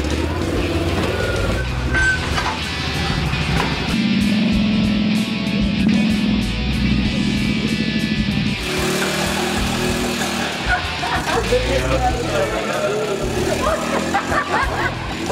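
Can-Am off-road machines rumble and rev as they head out onto trails, engines steady and loud throughout, with intermittent beeping and people talking and calling out over the motor noise.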